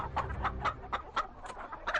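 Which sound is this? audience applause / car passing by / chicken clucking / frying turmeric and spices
chicken clucking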